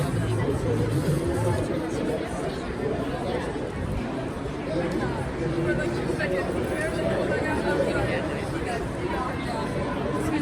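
Dense crowd chatter fills a busy fan convention hall at Galaxycon Raleigh, with many overlapping voices blending into a steady, close babble throughout.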